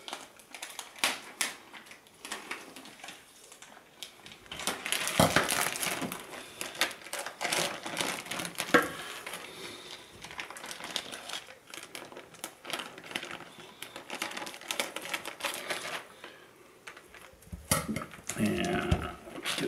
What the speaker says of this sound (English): So now we're just gonna cut the plastic off of the turkey.